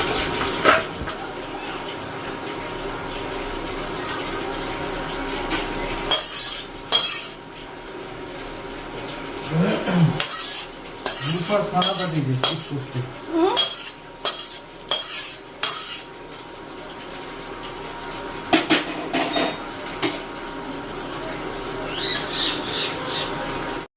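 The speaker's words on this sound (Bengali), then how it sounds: "আর চলো এখন কড়াই থেকে ঢেলে নিই" Fish curry made with fenugreek being ladled out of a kadai, with intermittent metallic scrapes and clinks of a spoon against the pan, close and fairly quiet, separated by brief pauses.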